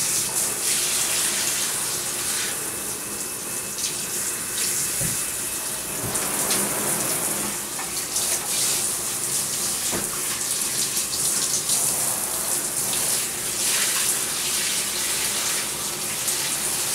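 Running water pours steadily from a tap as shampoo is rinsed off a yellow Labrador's paws, a close, continuous splashing hiss with small shifts as the stream hits fur and tub.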